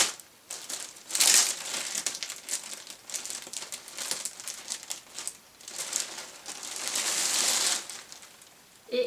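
Packaging around a riding vest crinkles and rustles as it is opened, in two louder bursts of crackling plastic with quieter handling between them, close by and with no talking.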